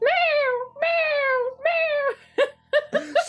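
A cat meows repeatedly and close by: three long, drawn-out, falling cries followed by a quicker run of short, sharp meows.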